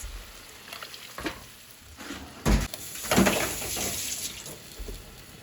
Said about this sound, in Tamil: தேவையான அளவு தண்ணியும் சேர்த்து ஊற்றிக்கிறேன்